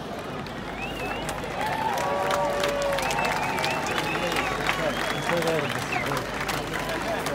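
A crowd at a speech applauds with steady clapping, mixed with cheers, whoops and babbling voices that rise and fall over the noise.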